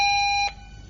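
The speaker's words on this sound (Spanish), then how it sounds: "Este es el sonido de la alarma cuando está activada." An activated alarm system in a castle emits a loud, piercing electronic tone for about half a second, then cuts off abruptly, leaving faint room noise.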